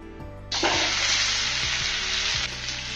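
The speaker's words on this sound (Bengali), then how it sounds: "যে আলুগুলো আমি সেদ্ধ করে রেখেছিলাম, সেই আলুগুলো আমি তেলের মধ্যে দিয়ে দেব" Boiled potatoes tipped into hot oil with turmeric for a mini singara filling: a loud, close sizzle bursts in after half a second and roars steadily, easing slightly near the end, with no talk.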